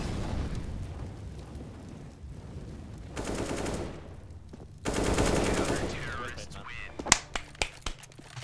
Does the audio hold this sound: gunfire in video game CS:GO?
yes